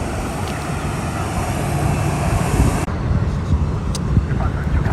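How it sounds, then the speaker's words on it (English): A private executive jet arriving at Fort Lauderdale airport, its engine roar a loud, steady broadband rush that holds for the whole stretch, brightening slightly partway through, with no voices over it. "Seems to be yet another private jet."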